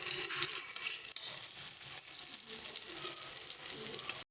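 Raw banana koftas frying in hot oil in a home kitchen, a steady, dense sizzle and crackle that stays loud and even throughout, alone without talk, cutting off abruptly at the end.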